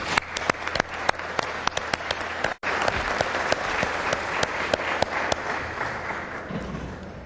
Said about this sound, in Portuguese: peço uma salva de palmas.